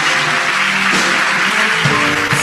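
Congregation applauding loudly during a Sunday celebration service in church, a dense, steady wash of many hands clapping that fills the whole stretch without pause, with a few faint voices mixed beneath.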